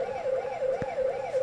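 A toy Power Wheels Dodge police car plays its electronic siren, a thin wailing tone rising and falling in steady cycles, fairly close, with a brief knock partway through.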